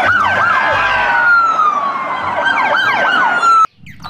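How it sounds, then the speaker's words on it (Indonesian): An ambulance siren wails nearby, a loud rising and falling electronic tone with a quick yelp pattern. It cuts off abruptly near the end, leaving faint background noise. "Wah, mobil ambulans."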